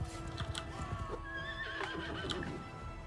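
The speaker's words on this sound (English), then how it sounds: "Horse, you're supposed to be helping me." In Mount and Blade, with the Realm of Thrones mod, a horse whinnies in long, wavering calls over busy hoofbeats and clatter from a battle, at moderate to faint level.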